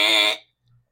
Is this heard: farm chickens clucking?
no